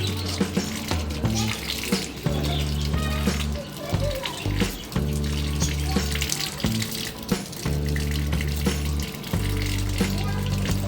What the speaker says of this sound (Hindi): मैं सिर्फ टैंकी के प्रेशर के साथ इसको वॉश कर रहा हूँ।